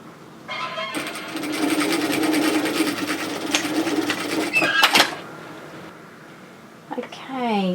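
A domestic sewing machine stitches steadily across a bib overalls strap, a continuous close whirring run that stops abruptly, followed by a brief rustle of fabric.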